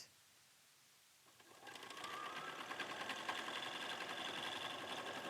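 A sewing machine stitches steadily across fabric seams, its fast, even mechanical whir starting after a short quiet pause and running loud and close to the end.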